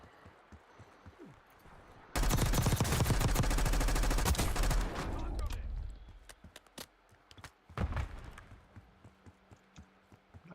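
Gunfire or an explosion in a video game, a sudden loud burst of crackling, rapid reports lasting a few seconds, then fading into scattered sharp pops and thuds.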